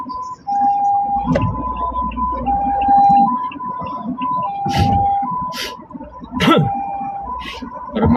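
A loud warbling ambulance siren cycles up and down while sharp bursts of honking and traffic noise punctuate it, close by and moving past.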